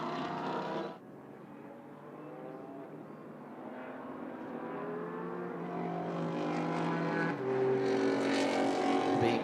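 GT4 race cars circling at Indianapolis behind the pace car, a sustained engine drone that swells louder toward the end as the pack passes, with a brief shift near the start.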